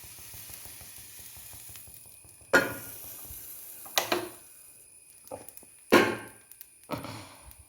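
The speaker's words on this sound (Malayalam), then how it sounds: "ഒരു വെള്ളത്തുള്ളി വന്ന് ചട്ടിക്കകത്തോട്ട് വീഴുന്ന ഷീന്നൊരൊച്ച" A water drop hitting a hot appam pan gives a few short, sharp sizzling hisses, each bursting out and fading quickly, with quiet gaps between them.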